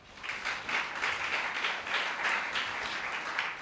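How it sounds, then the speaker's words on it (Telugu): A room full of people claps together in a sustained burst of applause at a youth retreat, steady and close, with no speech over it. "చప్పట్లు కొట్టండి."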